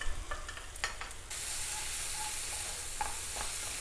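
Masala frying in a pan for an egg thokku, a steady sizzle with scraping stir strokes of a spoon against the pan, close and loud, with no talking.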